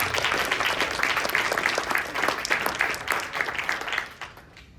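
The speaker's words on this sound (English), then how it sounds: "Round of applause." Steady applause from a crowd fills the room, dense clapping that holds strong and then thins out at the end.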